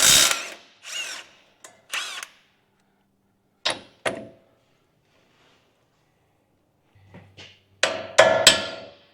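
Power tool bursts on a 17mm sway bar nut of a Toyota Hilux N70 during front diff seal work, several short whirring runs separated by silences, with a longer double burst near the end, close by.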